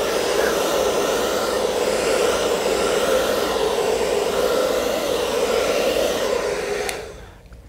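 A hair dryer blows steadily across wet acrylic paint in a Dutch pour, a loud, close, continuous roar that cuts off near the end.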